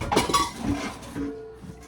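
A big cooking pot being handled in a home kitchen while preparing a crab boil, giving a few metallic clanks and clinks of pot and utensils, close and fairly quiet, with no talking.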